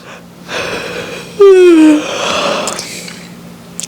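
A single close, loud yawn from one person draws out into a falling, breathy vocal tone, with soft breathing before and after in a quiet room.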